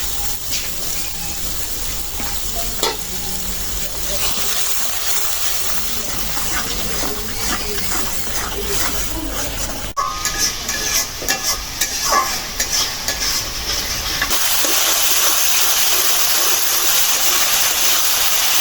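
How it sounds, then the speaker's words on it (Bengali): Spices frying with coriander powder, ginger and garlic: a loud close sizzle with busy stirring and scraping, rising into a steadier hissing crackle near the end. "মশলা ভালো করে কষাই নিলাম"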